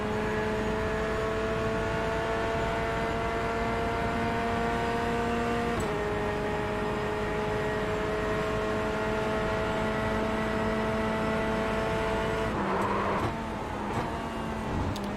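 A race car engine in the iRacing sim game holds a steady high drone with clear tonal harmonics, dipping briefly as gears shift, then a rough burst and pitch change near the end, continuous and close with no talking.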